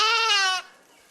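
A sheep gives a single close, loud bleat lasting about half a second, with a strong tone that cuts off abruptly into near silence.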